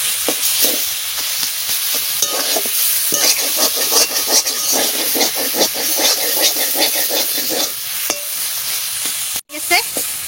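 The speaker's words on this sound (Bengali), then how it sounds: "আমার এই পিপুল শাক প্রায় ভাজা হয়ে গেছে।" Pipul leafy greens fry loudly in a hot pan, a dense hissing sizzle broken by quick stirring clicks and scrapes, close up and without talk.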